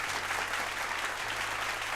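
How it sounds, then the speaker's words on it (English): A short round of applause, steady dense clapping from an audience at moderate distance, heard on its own without talk. "round of applause for you, my friend"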